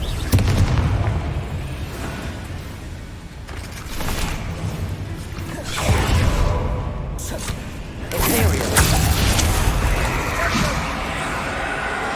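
Confringo spell blasts in the Hogwarts Legacy video game boom out in several separate bursts, each a heavy low impact with a crackling tail, set among other game sounds and quieter stretches.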